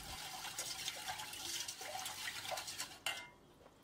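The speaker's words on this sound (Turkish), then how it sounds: "Şeker eriyene kadar karıştıralım." Sugar stirred into three glasses of water in a pot or bowl, giving a steady close-up swirl of water with spoon scraping and light clinks throughout, ending in a sudden sharper knock before quieting; no talking.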